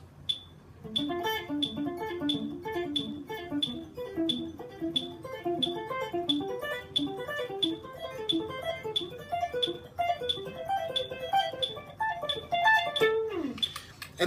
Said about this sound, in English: You can do it as 16th note triplets too.